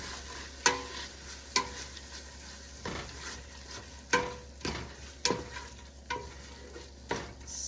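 Chili ingredients are stirred into vegetables sizzling in a pot for a hearty beef and bean chili: a steady close sizzle broken by about eight sharp scrapes and knocks of the spoon at an uneven rhythm, with no talk.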